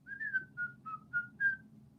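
Someone whistles a Disney tune from Snow White and the Seven Dwarfs: five short, clear, melodic phrases in a quick bouncing rhythm, close and solo over a faint low background hum.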